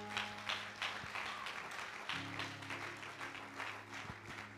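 Church congregation applauding during a worship service, a steady wash of clapping from many hands at moderate distance, sustained for several seconds over a faint held tone.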